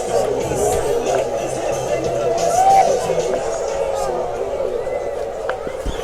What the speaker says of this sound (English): As you can really hear the crowd getting into it.